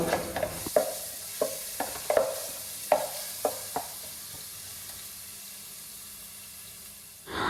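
Ginger garlic paste with cinnamon, cloves, cardamom and peppercorns frying in sunflower oil for a biriyani, giving a steady soft sizzle broken by a series of sharp stirring clicks and scrapes, close and moderately loud, with no talking.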